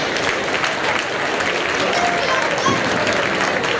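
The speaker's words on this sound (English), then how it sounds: "So give yourselves a big round of applause." Steady, dense applause from teams at the 2018 Ramp Riot memorial award presentation fills the whole stretch, loud and even, with a voice faintly audible beneath the clapping.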